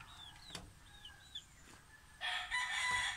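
A rooster, a gamecock of red kelso and red bulik lines, crows nearby in a drawn-out call. Fainter chirps and background noise come before it.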